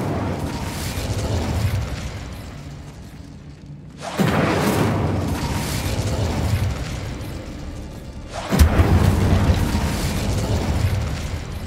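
A fiery Incendio spell goes off in Hogwarts Legacy as two loud, sudden roaring bursts, each followed by a sustained crackling rumble that stays dense and heavy.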